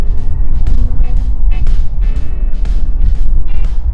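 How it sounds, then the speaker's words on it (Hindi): Jammed Karachi street traffic with cars and motorbikes, a loud, dense rumble of idling and revving engines with occasional brief honks and passing-vehicle surges, close and continuous. "ओए होए होए ये तो जाम है पूरा।"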